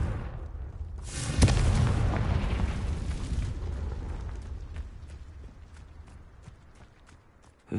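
A Confringo fire spell detonates in Hogwarts Legacy with one loud, close boom that rumbles on and slowly fades over several seconds, followed by faint clicks.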